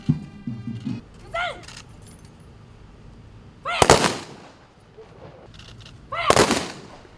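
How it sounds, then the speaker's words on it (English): Rifle volleys of a 21-gun salute at a memorial ceremony for fallen heroes, with two sharp, loud bursts separated by a few seconds, surrounded by faint crowd murmur and shuffling. "Three volleys of 21 gun salutes were also observed."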